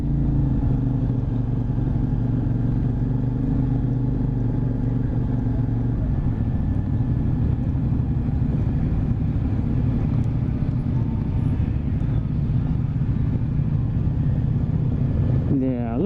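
A 2023 CFMoto 450SS motorcycle engine droning steadily through a U-turn, a constant low hum and rumble throughout, with a rider talking over it.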